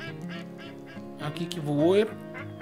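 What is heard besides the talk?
mallard ducks quacking in video game Way of the Hunter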